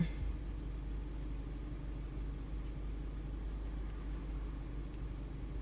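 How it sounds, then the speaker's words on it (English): A Toyota car engine idles steadily in park after a PCV valve replacement, a continuous low rumble with an even hum that holds a constant level throughout, no voices present. "The RPM's slowing down."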